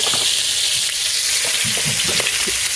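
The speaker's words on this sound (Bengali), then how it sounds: "এবার আলুটাকে একটু ভাজবো আলু ভাজাটা বসিয়ে দিয়ে" Potatoes fry in hot oil in a pan, giving a dense, steady close-up sizzle with faint stirring and no voices.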